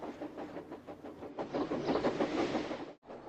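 A steam train puffing up a hill makes rhythmic chuffing bursts with a clattering mechanical texture, close and moderately loud, ending with a brief dropout.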